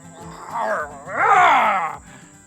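A lion roar sound effect: a rough, growling roar, then a longer, louder one sweeping up and down in pitch, close and prominent against a quiet background.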